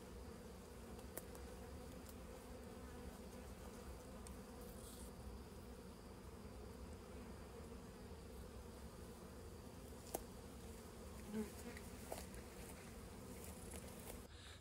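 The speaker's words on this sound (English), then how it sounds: "There's just a few bees back there finding that opening to get back in" Honey bees hum steadily around a foam cooler, a continuous soft buzzing of a few insects close by with occasional louder passes, no voices.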